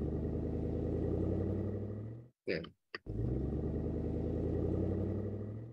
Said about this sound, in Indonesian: Jadi suara mobil jalan.